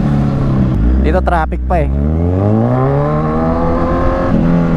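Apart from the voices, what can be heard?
Kawasaki Z1000 motorcycle accelerating with quick shifter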